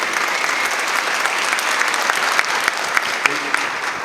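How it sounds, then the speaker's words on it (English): A large audience at an annual business meeting in Flint applauds steadily and loudly, dense clapping filling the room with a few sharper claps standing out near the end. "Give them a round of applause, please."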